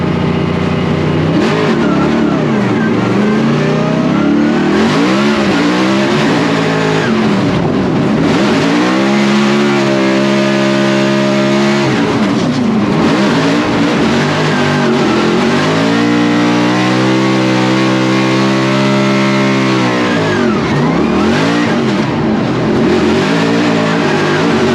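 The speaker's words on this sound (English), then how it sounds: "they're big V8 American cars, so this should be very interesting to watch" Big American V8 drift cars rev hard and loud at a Formula Drift event in St. Louis, with engines rising and falling in long surges, tires squealing and no talk over them.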